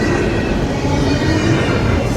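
A mostly empty CSX freight train rolls past a railroad crossing, a loud, close, steady rumble of wheels on rail with light clickety-clack and no voices.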